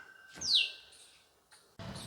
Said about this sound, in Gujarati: ચકલી ક્યાંક બોલે છે